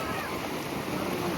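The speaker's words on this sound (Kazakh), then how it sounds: "Қараңыздар, қандай күшті болып тұр мына теңіздің толқындары." Strong sea waves break on the shore on a cold day, a steady, dense roar of surf with wind buffeting the microphone throughout.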